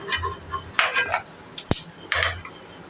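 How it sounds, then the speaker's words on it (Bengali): A metal spoon scrapes and clinks against a pan while fried peanuts are lifted out of hot oil. Several short clattering scrapes come in bursts, with one sharp knock partway through and a faint oily sizzle beneath. "এবার সমস্ত বাদামগুলোকে আমি উঠিয়ে ফেলবো"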